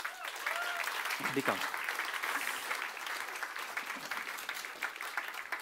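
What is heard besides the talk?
audience applause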